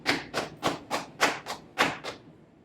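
A voice or hands imitate a rabbit thumping its back feet, eight evenly spaced soft thuds at a steady rhythm, close and moderately loud, then quiet.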